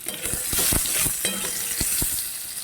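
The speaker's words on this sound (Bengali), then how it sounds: "চাল ভাজার পরে আলুগুলা ভেজে নিচ্ছি" Potato pieces fry in hot oil in a pan after rice has been fried, giving a steady bright sizzle broken by a few stirring knocks and scrapes, close and moderately loud.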